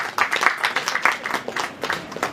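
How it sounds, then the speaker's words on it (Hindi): An audience at a film trailer launch claps for the film team, a short run of distinct hand claps close by with an uneven, pulsing rhythm. "एक बार हमारी इस टीम के लिए जरा जोरदार तालियां बजा दीजिए"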